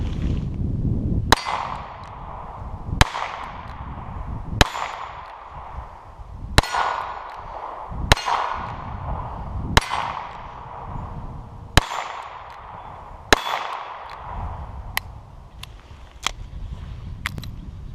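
Smith & Wesson Model 63 revolver in .22 Long Rifle fired at a shooting range, with nine sharp, loud cracks spaced a couple of seconds apart, each one ringing briefly before the next, plus a few fainter pops near the end.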